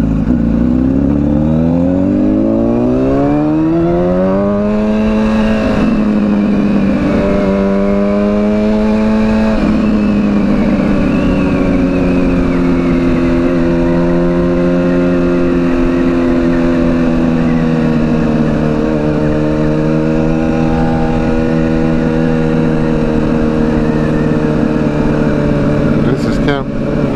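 A Honda CBR 1000RR motorcycle engine runs steadily up close, its pitch rising and falling with revs throughout, loud and continuous.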